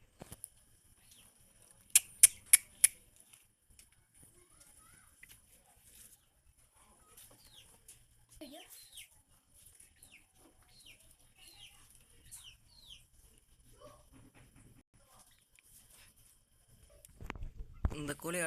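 A brooding hen on a farm at night gives scattered soft clucks and short calls against a quiet background, with a few sharp knocks early on and a louder rustle near the end.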